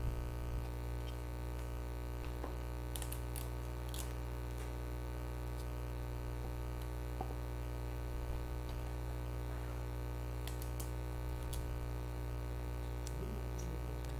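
An electric fan runs indoors during cake assembly, giving a steady low motor hum with a constant whir, broken by scattered small clicks and handling taps nearby.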